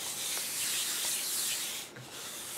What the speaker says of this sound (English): Rub some more.